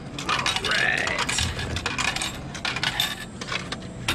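Coins clink and rattle as they drop into a Japanese vending machine, a bright metallic jingle near the start followed by scattered clinks and taps, close and fairly loud.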